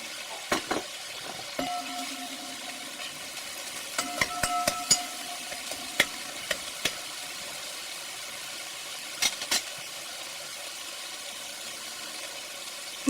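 Bacon fries in a pan, with a steady, soft sizzling hiss and scattered sharp pops and taps of a utensil against the pan over the whole stretch.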